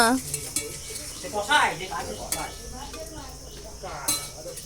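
A spoon stirs food in a cooking pot with soft scraping and light clinks of utensil on metal, close by, while people talk over it.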